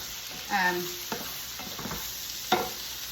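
Cabbage frying in a pan just after the lid comes off, a soft steady sizzle with a few scattered stirring clinks and scrapes over about three seconds.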